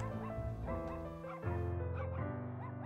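A dog in a cat adventure video game, The Furring Quest, gives a run of high, sing-song yips and whimpering barks, clear and close, repeating in quick bursts with no talking over them.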